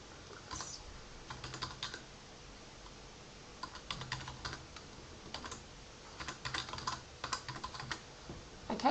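Keys clatter on a computer keyboard as an email address is entered, quick bursts of close, crisp clicks separated by short pauses, with no voices.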